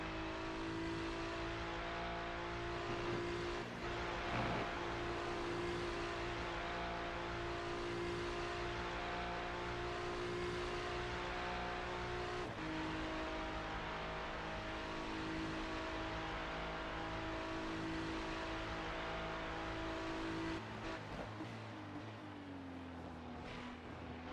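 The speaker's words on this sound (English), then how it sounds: "on board with Gorgetto as we look back to Marino Cloaric's car." A Porsche GT3 race car engine drones loudly and steadily from on board, with sustained harmonic engine tones shifting through gear changes and throttle adjustments over about twenty seconds, no voices.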